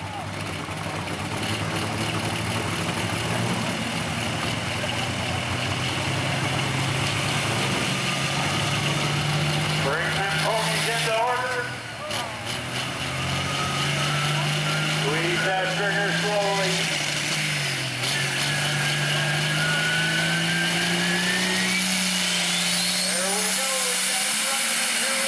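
A big pulling tractor at an NTPA tractor pull in Elk River, Minnesota roars continuously with its engine winding steadily upward in pitch, loud and close, while an announcer talks over the noise.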